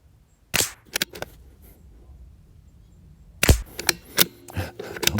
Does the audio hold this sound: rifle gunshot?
yes